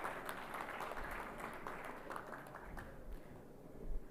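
An audience at India Maritime Week 2025 applauds, a soft, distant and even wash of clapping that lasts throughout with no talk over it.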